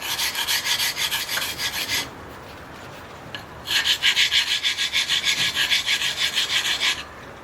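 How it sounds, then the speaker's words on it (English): A chisel is rubbed back and forth on a sharpening stone in steady rasping strokes, two bursts of close scraping split by a short pause. "you can get these stones, these sharpening stones, and literally sharpen"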